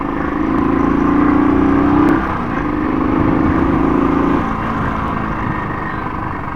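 A Royal Enfield Thunderbird 350 motorcycle being ridden, an older single-cylinder bike with strong handlebar vibration: a steady, loud engine drone with a held tone that dips briefly as the rider shifts, continuing throughout without speech.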